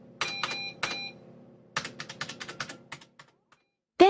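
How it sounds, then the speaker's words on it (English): Bursts of quick keystrokes on a computer keyboard, clicking in short uneven runs with pauses between them, fairly close, and a brief tone right at the end. "He was typing a kind of code on the screen."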